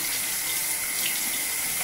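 Tap water pours steadily into a sink, a constant even rush with no clear sound of a dog over it.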